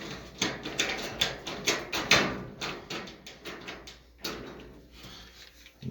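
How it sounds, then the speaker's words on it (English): During repair of a noisy clothes dryer, a screwdriver fitted with a wrench bit drives a screw into the dryer, giving a run of rhythmic clicking, ratcheting bursts, close and moderately loud, with a short pause before a few final clicks. "So now I can grab my screwdriver with my wrench bit."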